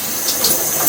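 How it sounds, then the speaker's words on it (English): Tap water in a shower runs in a steady hiss while a face is rinsed, close and fairly loud with faint splashing pulses and no voices over it. "Whenever I rinse, I just put a little water in my hand, go up, and it gets my whole face."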